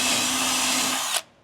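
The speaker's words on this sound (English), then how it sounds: "you need to drill a hole for it" A cordless drill whines steadily at close range while boring a hole for a soft-close drawer slide pin in a van build, then cuts off abruptly.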